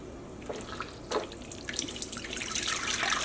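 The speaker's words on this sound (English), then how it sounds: "when I'm squeezing out the vinegary water, what's left behind in my bowl is completely clear" Hanks of yarn are squeezed by hand in a bowl of vinegary wash water, with close splashing and dripping that swell into a steady trickle, heard on its own.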